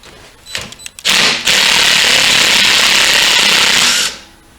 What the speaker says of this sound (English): with an impact gun you can take that nut off